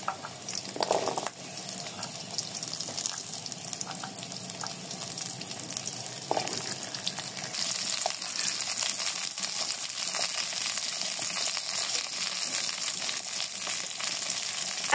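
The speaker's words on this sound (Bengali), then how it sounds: "লবণ দিয়ে এবার সব ভালো মতো একসাথে ভেজে নেব।" Potatoes and carrots fry with salt in a pan, giving a steady close sizzle with occasional stirring scrapes and light clatters throughout, and no talking.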